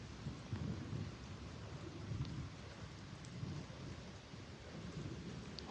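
Thunderstorm with steady rain and rumbling thunder, a dense continuous wash of downpour noise with low rolling booms swelling through it, no voices.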